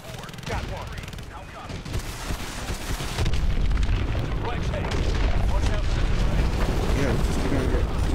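Missile strikes and gunfire in the Advanced Warfare video game, an attack on the hard points of a hydroelectric deck, form a dense, loud barrage of booms and mechanical clatter that swells and stays heavy throughout.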